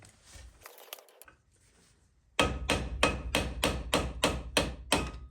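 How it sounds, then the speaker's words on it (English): Ten loud, evenly spaced metallic hammer strikes on a Hyundai i10 brake disc ring out one after another, preceded by quieter shuffling and handling noise. "So get a hammer and we'll try to shock them out."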